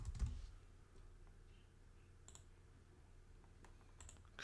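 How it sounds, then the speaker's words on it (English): Quiet clicking of fingers typing on a computer keyboard, a short burst of keystrokes that are faint and close against a low background hum, with no voices. "I'll type AI Search"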